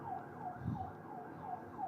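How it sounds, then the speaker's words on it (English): Emergency vehicle sirens wail steadily from a distance, rising and falling in a repeating cycle over a low rumble of traffic, with no speech. "Oh, the sirens are going on."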